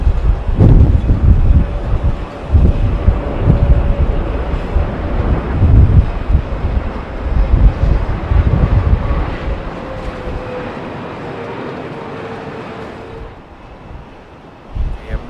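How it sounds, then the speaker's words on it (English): At Heathrow, an Air Canada Boeing 777 passes with a broad, rumbling jet roar and a thin whine that slowly drops in pitch. The noise eases off and thins out toward the end. "Air Canada, Boeing 777 from Vancouver."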